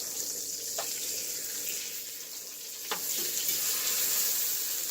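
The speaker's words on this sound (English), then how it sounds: "now that my pan is screaming hot and my butter is starting to foam, that's when we're going to toss it in" Filet mignon steak searing in a screaming hot pan with foaming butter, a steady loud sizzle and crackle throughout, with a couple of sharp spatters and the frying intensifying toward the end.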